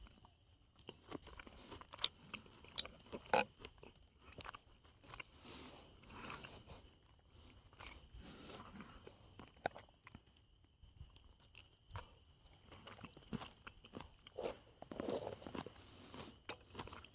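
Someone eats dinner outdoors at a rainy campsite beside an inflatable tent, with soft close-up chewing and crunching bites spread irregularly over faint background rain hiss, no talking.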